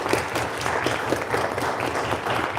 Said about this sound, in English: So big round of applause for Gabby.